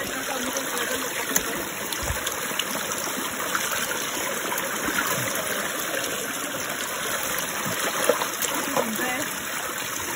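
A mountain stream in Arunachal Pradesh flows continuously with a steady broadband rush and small splashes, close and even throughout.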